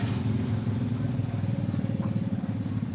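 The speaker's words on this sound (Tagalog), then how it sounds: "Maingay yung ating motor." A noisy motorcycle engine runs close by with a rough, rapid pulsing idle and some clatter, a steady low rumble throughout.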